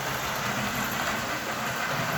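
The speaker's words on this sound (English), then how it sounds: "I can hear squeaks, so I'm guessing the wheels all need oiling and cleaning" A Next Gen S Royal Blue model train engine from the 3 Amigos set rolls loaded along a layout main line, its wheels in need of oiling and cleaning, giving a steady, close rumble with faint squeaks and no voices.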